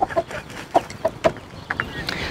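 Hens in a coop where they have started dust bathing give a string of short, close clucks and murmured calls, irregular and fairly loud, with no people speaking.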